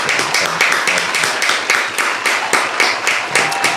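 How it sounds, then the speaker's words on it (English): A live podcast audience gives a round of applause for a guest, a dense, loud burst of clapping hands that stays steady throughout, close and without talking. "Round of applause for Callum Sanderson."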